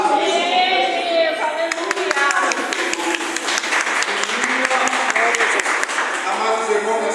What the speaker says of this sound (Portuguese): as palmas que louvam o Senhor